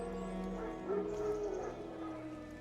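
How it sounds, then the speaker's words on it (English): Wild dogs barking and yipping in The Witcher 3 game world, a few mid-range barks and whimpers over a steady ambient bed of game music and atmosphere. "No. Wild dogs."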